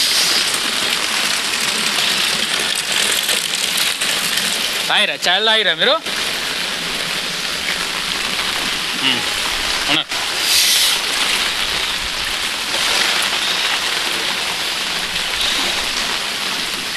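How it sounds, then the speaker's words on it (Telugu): Heavy rain pours in Ramayampet, Medak district, as a dense, steady roar that never lets up, while a person speaks briefly in the middle. "ఎప్పుడు కొట్టలే మరి ఇంత వాన"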